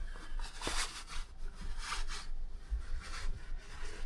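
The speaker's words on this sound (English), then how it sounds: "I just stuff most of the hammock back into the bag." Fabric of a portable hammock is stuffed into its carry bag in a run of close, rustling rubs and swishes, steady and continuous without any talking.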